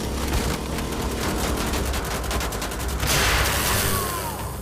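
Rapid bursts of gunfire from Wolfenstein: The Old Blood, loud and close, with dense overlapping shots running throughout the whole stretch and a brief swelling whoosh near the end.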